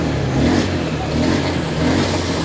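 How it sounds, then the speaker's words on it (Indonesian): A Honda Beat FI motorcycle with a rough starter and a sputtering, stalling fault idles steadily nearby after being kick-started, its engine note swelling in a few gentle throttle revs, loud and close with no talk. "Nah, oke, motornya hidup."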